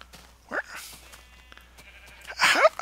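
Two short sheep bleats in a video game, one quick and mid-loud near the start and a louder, fuller bleat near the end, with quiet game ambience between.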